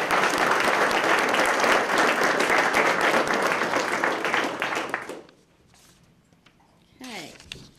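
Applause from an audience at a Sarasota Police Department promotional ceremony fills the first five seconds loudly and evenly, then drops away to quiet room sounds with a brief voice near the end.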